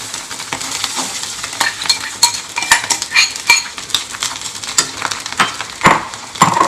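Cooked rice is stirred into a hot pan for egg fried rice, with busy close scraping and clinking of a metal spatula against the pan over a continuous light sizzle.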